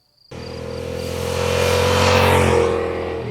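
A Yamaha MT-07 naked motorcycle engine revs up sharply from silence, its steady loud drone rising and holding near the microphone.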